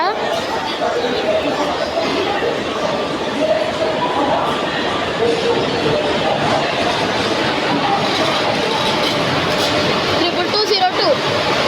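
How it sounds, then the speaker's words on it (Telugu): The Narasapur Dharmavaram Express pulls into a busy Indian railway station, its steady low rumble running beneath constant crowd chatter and nearby talking. "మన నర్సాపూర్ ధర్మవరం ఎక్స్ప్రెస్ అయితే వచ్చేస్తుంది అనమాట."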